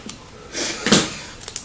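Scissors cutting open a Tim Hortons hockey card pack: a few short crisp snips and a rustle of foil wrapper, close and fairly loud, with no talking.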